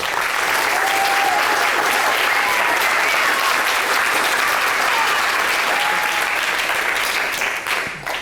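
A lecture audience breaks into sustained, loud applause welcoming a professor, a dense even patter of many hands that holds steady and tapers off just at the end.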